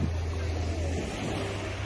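Steady wash of sea waves at Weymouth beach with wind rumbling across the microphone, continuous and fairly loud, no voices.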